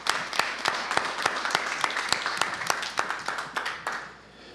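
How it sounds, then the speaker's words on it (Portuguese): A small audience at a student physics tournament claps for all the participants, a sparse room applause with distinct individual claps in a fairly steady rhythm that fades out near the end. "Uma salva de palmas para todos os participantes."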